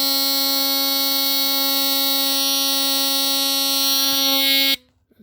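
A GE Home Sentry model 8201 smoke alarm sounds one steady, loud, low-pitched harsh buzz held for almost five seconds, then it cuts off abruptly into quiet.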